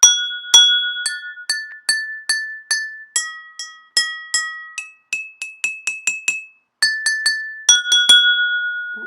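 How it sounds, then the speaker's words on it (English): Glassware filled with water, tapped like a xylophone, rings out in a quick series of bright, bell-like clinks at several pitches, some notes repeated in short runs, each with a clear sustained tone, and no voices. "Oh, this one has a beautiful bell-like sound."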